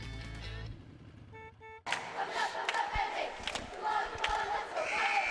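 Morgan High cheerleaders and crowd cheering at a girls state tournament basketball game, beginning after a short horn-like tone, then a loud, sustained burst of crowd shouting and cheering with sharp accents.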